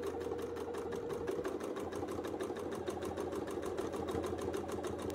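A sewing machine doing free-motion quilting runs at a fast, steady rhythm, its needle ticking in rapid regular strokes over a low motor hum, close and quiet, with no talking.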